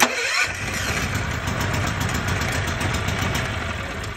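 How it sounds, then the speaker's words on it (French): A 50cc moped engine churns and cranks loudly and steadily for several seconds, close by, failing to start and never settling into a clean running idle. "il marche pas, j'arrive pas à le démarrer"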